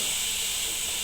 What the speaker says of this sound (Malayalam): നമ്മുടെ കുക്കർ തുറക്കുകയാണ്